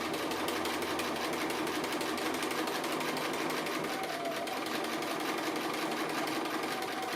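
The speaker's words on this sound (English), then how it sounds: "So I'm just doing free motion straight stitching, just on the applique close to the edge." Free-motion straight stitching along the edge of an appliqué on a sewing machine, a steady fast needle chatter running without pause at close range.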